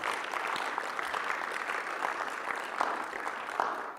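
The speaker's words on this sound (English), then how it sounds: "We give Tim a round of applause." A gathering at a church presbytery meeting breaks into steady applause for a speaker, a dense wash of many hands clapping evenly, moderately loud, with no voices over it.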